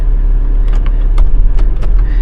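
A Porsche idles at a dealer auction, a steady low engine rumble with a few faint clicks and rattles over it, close by and without talk.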